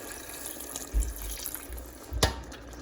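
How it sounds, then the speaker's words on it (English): Water poured into a cooking pot of simmering squash soup, a short splash with a few small bursts and faint trickling, close and fairly quiet. "Add some water."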